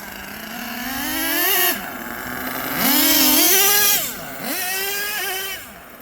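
An HPI Savage XL RC truck fitted with two LRP .32 nitro engines buzzes loudly in three rising and falling throttle bursts, high-pitched revving swells separated by brief dips back toward idle.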